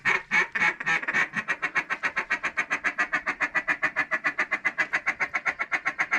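Ducks quack in a loud, steady run of about thirty calls close by during a duck hunt at Reelfoot Lake, with a couple of irregular calls at the start.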